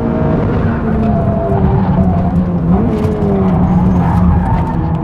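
Honda Civic Type R driven hard on a race track, a steady loud engine drone with shifting pitch and faint tire noise, no talk.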